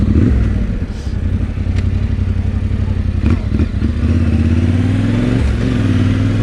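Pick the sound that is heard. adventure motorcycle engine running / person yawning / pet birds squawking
adventure motorcycle engine running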